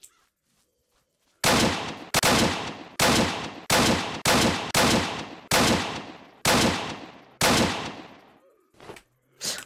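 RPK machine gun fire in the video game Apocalypse Rising: about nine loud, sharp bursts spaced roughly a second apart, each cracking hard and decaying with echo, followed by a couple of shorter shots.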